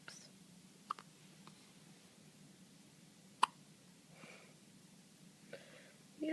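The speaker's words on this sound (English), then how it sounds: "You got the hiccups." A one-day-old newborn's hiccups sound as a few faint, sharp little hics spaced irregularly over quiet room tone, with soft breathing and murmurs between them.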